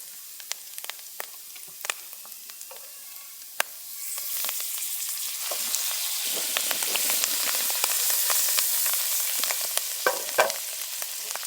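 Crisp morel mushrooms fry in a pan, with scattered clicks of the pan at first, then a steady, close, loud sizzle rising in and holding to the end.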